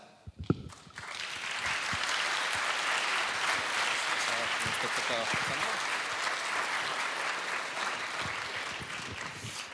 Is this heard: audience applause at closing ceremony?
yes